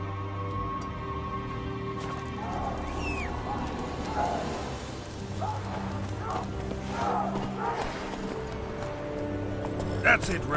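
Roach the horse trots in The Witcher 3, hooves clip-clopping steadily at mid distance with a brief snort, while people talk over a quiet musical background.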